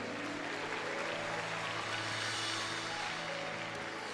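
A church congregation applauding together, a steady wash of clapping held at an even level throughout, with a faint voice audible beneath it.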